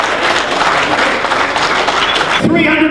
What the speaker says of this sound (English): Let's have a big round of applause as he leaves the platform